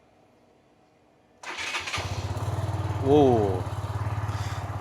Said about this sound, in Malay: Biasa time-time macam ni susah nak start motor.